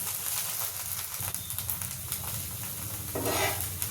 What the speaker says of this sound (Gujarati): આ રીતના ઘી આપણે ફેલાવી દઈશું અને બીજી બાજુ પણ શેકી દઈશું